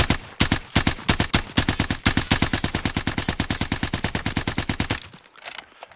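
Fast automatic gunfire in a video game rattles out in a long, evenly spaced burst of sharp, loud shots for about five seconds, then cuts off into quiet background noise.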